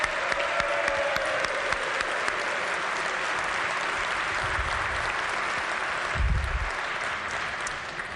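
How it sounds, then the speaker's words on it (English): Steady applause fills a legislature chamber as legislators and guests clap together, dense and even for several seconds with a couple of low thumps partway through. "we give our guest speaker, Shelby Sylvius, a round of applause for a job well done today."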